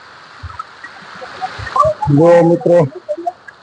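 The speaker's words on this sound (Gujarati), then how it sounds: "આટલું પાણી આવી રહ્યું છે" A steady wash of water pours down temple stairs, with a few low splashes, while someone speaks briefly over the flow.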